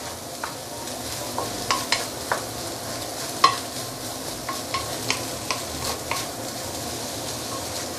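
Egg fried rice with soy sauce being stir-fried in a wok, a steady sizzle broken by repeated sharp scrapes and clacks of the spatula at an irregular rhythm, close and clear with no voices.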